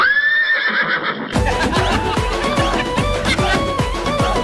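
A horse whinnies loudly, a high wavering neigh, followed by a rapid series of snorting, pulsing calls that continue to the end.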